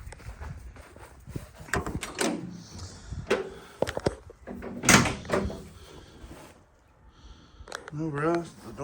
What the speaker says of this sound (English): open these doors here